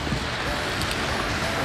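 Raindrops striking a new rainproof down jacket make a dense, steady patter and hiss close to the microphone, continuous for the whole moment with no pauses.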